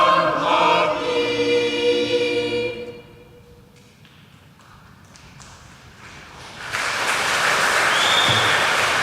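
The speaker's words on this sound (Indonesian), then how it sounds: "Sekali lagi beri tepuk tangan yang meriah untuk penampilan tim peserta dari nomor urut 1." Audience applause after a choir's performance at an inter-regional choir competition, following a sustained final chord as it fades; dense, steady clapping from a crowd swells in and fills the room, with a faint whistle.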